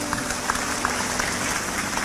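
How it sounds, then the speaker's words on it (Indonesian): An audience claps together at a public gathering, a steady wash of applause with a few distinct louder claps standing out. "Tepuk tangan untuk Palangkaraya adalah."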